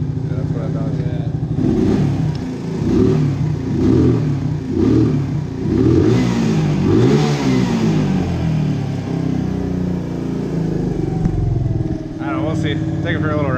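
A worn Suzuki DR200 motorcycle engine runs close by and revs in a series of rhythmic throttle blips, then settles to an uneven idle as people talk over it.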